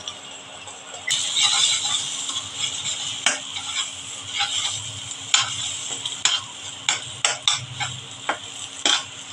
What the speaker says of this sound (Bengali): এইদিকে আমি ডিমগুলো একটু ভুজিয়া বানিয়ে নিচ্ছি।